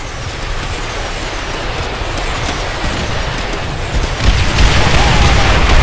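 A rocket blast in the Call of Duty video game booms as a dense, loud rumble that grows heavier in the last seconds and dominates throughout, with no voices over it.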